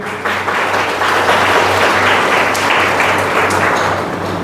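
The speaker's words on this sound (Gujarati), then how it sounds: "આપણે સૌ તેમનું તાળીઓથી સ્વાગત કરીએ" An audience claps to welcome a family at a birthday gathering, a dense burst of applause that rises quickly and holds steady throughout, close and loud, with a low hum underneath.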